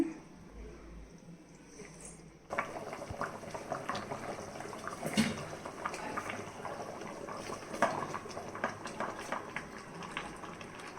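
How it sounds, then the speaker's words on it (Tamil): Mutton biryani gravy bubbling steadily in a pot, a close, continuous boil with irregular pops and gurgles that starts abruptly after a quiet moment and carries on alone. "நல்லா கொதிச்சிட்ருக்கு."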